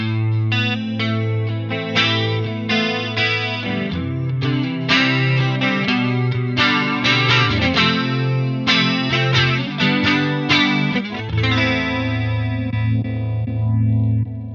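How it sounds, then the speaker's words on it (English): Electric guitar through a BOSS MD-200 emulation of the CE-1 chorus, with a shimmering, warbling chorus effect, plays a lively melodic line over a bass note, slightly gritty and close. "in Bank 2 I did the legendary CE-1 chorus"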